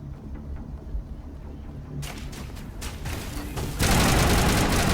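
Gunfire in Mass Effect, quiet rumbling game sounds at first, then rapid bursts of shots from about two seconds in, rising into a loud sustained barrage near the end.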